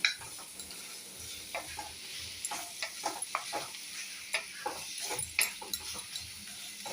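Spices roast, sizzling and crackling in a hot iron kadhai, while a utensil scrapes and stirs with irregular clinks, close and steady, with no talking.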